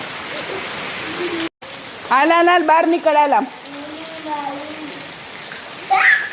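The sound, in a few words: rain falling outside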